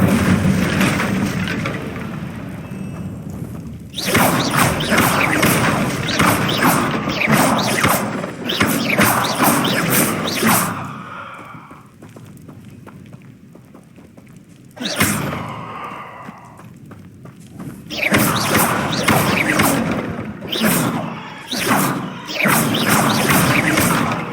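Bursts of magic spellcasting in Hogwarts Legacy, loud crashing and whooshing blasts in several clusters with quieter gaps between, game effects alone without talk.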